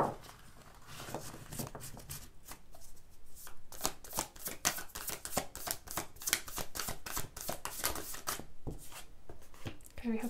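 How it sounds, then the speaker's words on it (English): Tarot cards are shuffled by hand in a quick run of crisp riffling bursts, growing denser and louder partway through, with a voice talking faintly now and then. "Let's give this a little shuffle."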